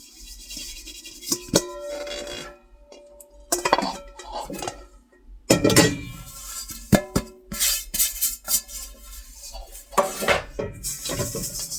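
Rice flour sifted through a sieve in a home kitchen, heard as bursts of metallic clinking and rattling taps with short quiet gaps between them, close and fairly loud.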